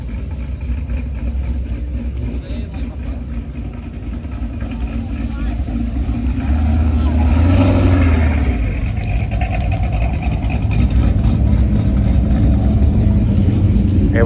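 Engines idle and rev as cars pull out of an evening car meet at a turnout in Orange County, a steady mid-pitched drone that swells around the middle and stays loud, with voices talking over it.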